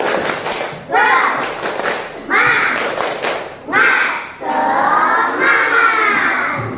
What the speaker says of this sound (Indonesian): Sebelum memulai kembali, tepuk semangat dulu.